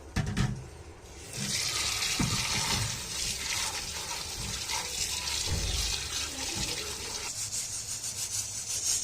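Tap water runs steadily into a kitchen sink while fresh coriander is rinsed under it, with a continuous splashing hiss and occasional soft rubbing and handling knocks, close by and without speech.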